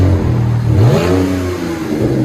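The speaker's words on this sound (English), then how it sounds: "So now it's straight pipe, only cats." BMW 525i with a 2.5L inline-six and straight pipe exhaust revving up loudly close by, the engine pitch climbing in a single throttle blip before settling back toward idle.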